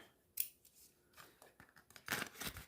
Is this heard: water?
no